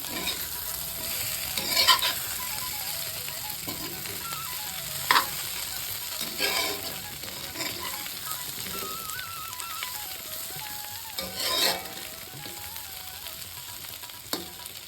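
Baby potatoes fry in a pan with a steady crackling sizzle, broken by a few louder scraping stirs as they are turned, with no talk.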